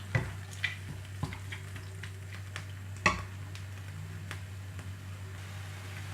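Minced pork stir-fries in a pan with a little water, giving a quiet steady sizzle broken by scattered soft clinks and scrapes of a utensil against the pan, with a low hum underneath and no talking.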